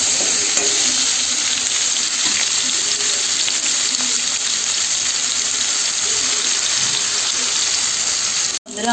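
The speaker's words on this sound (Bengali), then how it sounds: "কড়াটা গরম হয়ে গেলে কিন্তু ভালো করে ঢেঁড়সগুলো ভেজে নেব" Okra fries in hot oil in a wok, giving a loud, steady, close sizzle that runs without a break and dips briefly near the end.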